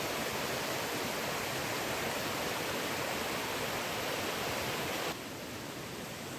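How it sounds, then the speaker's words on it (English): Gleese Creek rushes past as a steady, loud, broadband wash of flowing water, unbroken and close by, with a slight drop in level near the end. "This is Gleese Creek."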